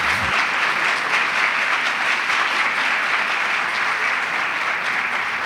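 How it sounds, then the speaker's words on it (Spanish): A church gathering's audience gives a strong, sustained round of applause to welcome a new episcopal vicar, dense even clapping that holds level throughout. "Lo recibimos con un fuerte aplauso"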